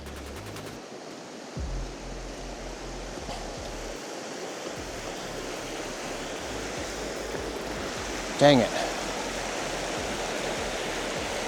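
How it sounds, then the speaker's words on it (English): A river flows through snowy winter wilderness with a steady broadband rush of water that stays loud and continuous, while a person briefly mutters once near the end. "I'm coming out to where a river is."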